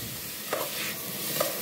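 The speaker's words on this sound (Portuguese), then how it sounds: "Em uma panela, eu vou dar aqui uma leve refogadinha" Small pieces of zucchini and chayote are lightly sautéed in a pan, giving a steady close sizzle with a couple of brief stirring knocks and no talk.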